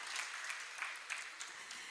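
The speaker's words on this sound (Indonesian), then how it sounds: "Boleh berikan tepuk tangan untuk media partner kita." Audience applause at an Indonesian financial education event for family welfare movement (PKK) members, honoring the media partner: steady, dense clapping from a moderately sized crowd, fairly faint and even throughout with no talk over it.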